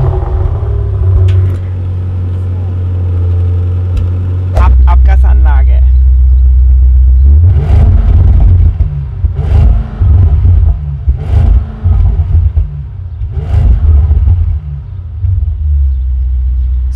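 An Audi RS6-R with a Milltek exhaust starts with a loud burst and settles into a deep idle, then gives several sharp revs that rise and fall, with voices talking briefly in between.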